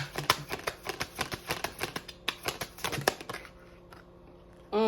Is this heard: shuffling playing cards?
yes